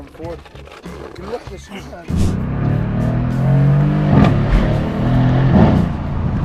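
Brief talk gives way to the deep V8 engine of a Mercedes-AMG C63 S starting with a bark, then rumbling loudly close by with throaty revs.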